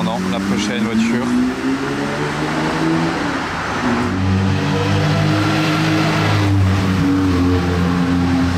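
A Porsche GT3 Touring on a town road during the Monte-Carlo Rally 2025, its engine loud and close, revving and shifting as it accelerates past, with a voice talking over it.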